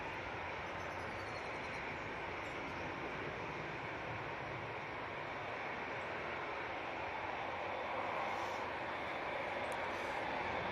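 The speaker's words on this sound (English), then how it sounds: "Qatar 787-9 Dreamliner going off to Doha" A Qatar Airways Boeing 787-9 Dreamliner departing Manchester Airport for Doha, a steady, fairly faint jet roar with a broad rushing texture that swells slightly toward the end.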